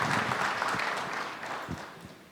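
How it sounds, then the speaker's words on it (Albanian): Audience clapping at a TOP 100 awards ceremony, a dense round of applause from many hands that gradually fades over a couple of seconds. "Andaj ju lus për një duartrokitje të fuqishme"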